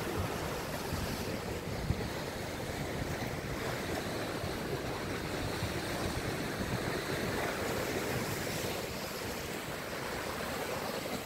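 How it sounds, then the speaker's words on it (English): Ocean waves crash and wash on the shore in a steady broad roar, mixed with heavy wind buffeting the microphone, continuous and fairly loud outdoors. "here's where the waves crash"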